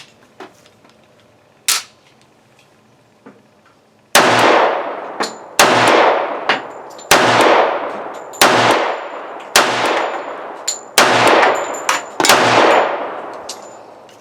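Sig P220 pistol firing American Eagle 230 grain round-nose .45 ACP rounds: seven loud, sharp shots at a steady pace, each ringing out with a long decaying echo, after two fainter clicks.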